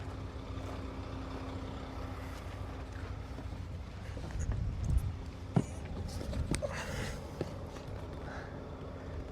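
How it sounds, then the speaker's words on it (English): A Mack truck engine idles on a farm while soybeans are loaded out for harvest, a low steady diesel rumble with a faint whine, a few clanks and knocks over it partway through. "But this setup right here, the Mac truck"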